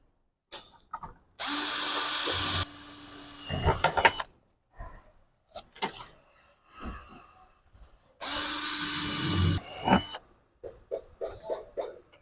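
A power drill bores a hole in the head of a commercial door frame for weatherstrip installation, two sustained close whirring bursts of a few seconds each, separated by clicks, handling knocks and small tool noises.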